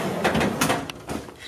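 A soft-close drawer on a Husky Industrial 52-inch tool box glides shut, giving a few soft sliding rustles and a muted thud that settle quietly at close range.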